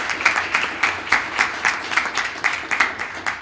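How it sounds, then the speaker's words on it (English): An audience at a school board candidate forum applauds, a short burst of crisp, closely miked clapping with a loose rhythmic pulse, heard alone without talk. "So let's give them a round of applause for being there."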